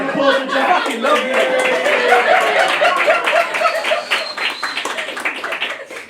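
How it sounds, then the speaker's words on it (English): A comedy club crowd in Nottingham claps and chuckles for a performer, scattered hand claps mixed with laughter and voices, fairly close and lively, gradually thinning out. "Let's get a round of applause for Jack"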